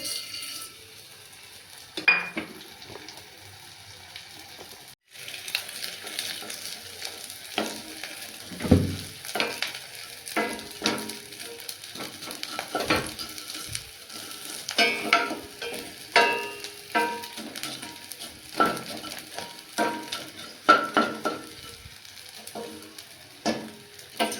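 Edible gum fries in a pan as it is stirred for flaxseed ladoo. A continuous crackling sizzle comes with frequent clinking and scraping of a utensil against the pan, close and busy for the whole stretch.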